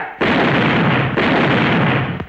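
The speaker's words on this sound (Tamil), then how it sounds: "அதான் வெடி போட்டுட்டு இருக்கிறேன்" Firecrackers go off in a Tamil film scene as two long, loud, crackling bursts back to back, each a dense roar of rapid pops, ending in a sharp final crack.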